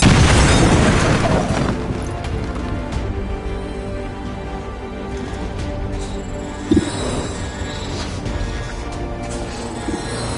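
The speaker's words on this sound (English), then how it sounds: "Bombs away!" Bombs exploding in a video game, with a loud booming blast at the start that settles into a dense, rumbling roar of battle noise and a sharp pop partway through.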